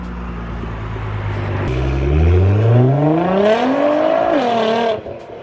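A Nissan 370Z with a very loud exhaust makes a flyby on a cold day, its engine revving up in a rising, climbing howl that peaks close by and then drops away sharply as it passes.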